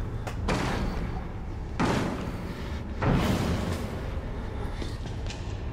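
Heavy repeated slams and thuds of a door in a horror video game, three or four loud booming impacts over a dark rumbling background.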